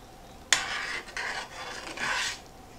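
Sweet rice is stirred in an oiled pan over a high burner, a utensil scraping and rasping against the pan in several short strokes after a sharp initial knock.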